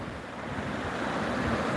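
Winter sea waves rolling onto the shore, a continuous loud wash of surf mixed with wind buffeting the microphone, no voices.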